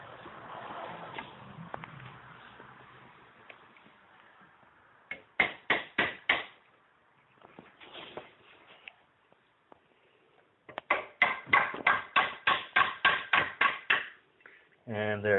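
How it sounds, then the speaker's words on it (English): A screwdriver works at a u-joint clip on a Jeep CJ7 wheel, giving two bursts of rapid, close metallic taps separated by quieter scraping. "we'll just take our screwdriver"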